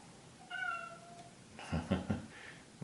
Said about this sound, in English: If you hear that, my cat wants to come in.